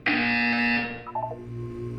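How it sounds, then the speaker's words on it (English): A loud electronic buzzer sounds in the Portal 2 video game, a harsh tonal blare that hits at once, then decays into a lower lingering tone. "You will hear a buzzer."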